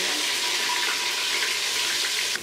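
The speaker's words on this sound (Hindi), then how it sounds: "प्याज को हम इतना फ्राई करेंगे कि हल्का ब्राउन हो जाए" Onions frying in a pan, a steady bright hiss of sizzling close up, continuous and alone before dropping away at the end.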